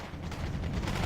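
Vulcan cannon APCs fire in Wargame: AirLand Battle, a dense, continuous rattle of rapid cannon shots with rumbling low end, moderately loud and steady through the short stretch with no voices.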